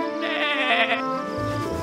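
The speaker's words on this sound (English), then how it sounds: "Bleats Lolly the Lamb." A lamb gives one short, wavering bleat, close and clear.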